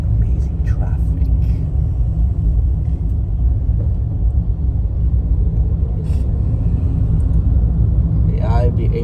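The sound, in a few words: road traffic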